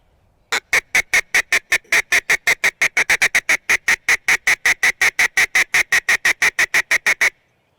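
A Teal Talker duck call sounds a happy hen teal sequence: a long run of about thirty rapid, evenly spaced nasal quacks, loud and close, with no talking over it.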